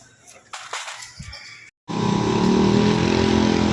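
A Yamaha Sniper 150/155 motorcycle engine, its throttle just cleaned, idles faintly with some handling noise before a brief silence, then revs up loud and close in a sustained steady drone.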